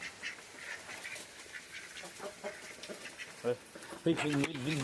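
Several ducks quack near and far in a busy, irregular chatter, with a person talking over them toward the end.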